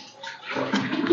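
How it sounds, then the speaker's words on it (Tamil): Strained tamarind water poured into a pan in a kitchen, a short burst of splashing liquid that grows fuller and louder over about a second. "அந்த புளி தண்ணி ஃபுல்லா ஊத்திடும்."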